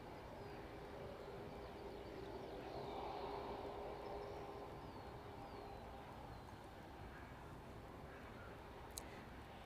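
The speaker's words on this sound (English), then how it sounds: "DHL 767 just taxiing out of view" A DHL Boeing 767 taxiing at East Midlands Airport, heard as a faint, steady jet engine rumble and whine at a distance, continuous and smooth throughout with no voices.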